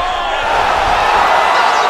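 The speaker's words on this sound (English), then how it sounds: "crowd loving it" A crowd in a UFC 5 heavyweight fight roars with steady, dense cheering that holds level and loud throughout.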